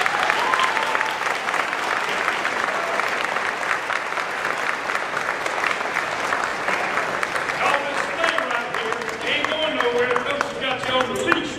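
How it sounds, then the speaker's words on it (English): A large audience at a county sports hall of fame induction ceremony applauds in a loud, dense, sustained wash of clapping; a voice begins speaking over the tail end. "Let's give them a big round of applause."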